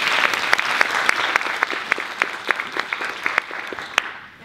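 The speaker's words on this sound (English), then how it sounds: "give a round of welcome and applause for you" An audience at an academic symposium on generative AI applauds warmly, a dense steady clapping with a few sharper claps standing out, sustained for several seconds before fading at the end.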